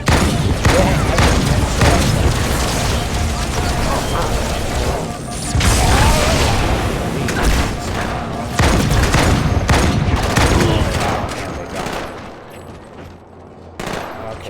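Grenade explosions and gunfire in the Halo 2: Anniversary video game, loud booms and bursts of shooting in rapid clusters, with intermittent battle chatter mixed in and a quieter tail at the end.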